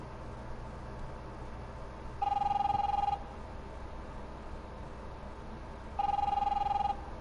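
A telephone in The Wolf Among Us video game rings twice, each ring a steady electronic trill about a second long, separated by a few seconds of low background hum.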